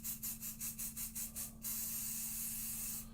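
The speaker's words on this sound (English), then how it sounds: "So I'm going to grab a little bit of pixie spray" A series of short, close spray bursts of pixie spray misting onto a craft background, about nine quick rhythmic puffs followed by a longer continuous hiss.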